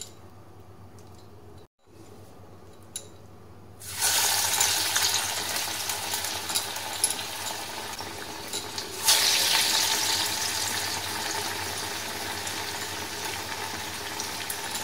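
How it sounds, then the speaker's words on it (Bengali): Neem leaf pakoras drop into hot oil in a wok, and a loud, broadband sizzle bursts out suddenly, then swells again a few seconds later and keeps hissing steadily, with no talking. "এবার আমি নিম পাতার পাকোড়াগুলো ছাড়বো"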